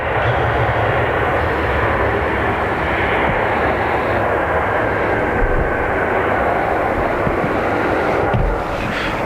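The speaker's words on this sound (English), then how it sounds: "DL 45 is a 767-300 off to JFK." A Delta Boeing 767-300 airliner on the runway at Dublin Airport, its jet engines giving a loud, steady roar that holds throughout, with no voices.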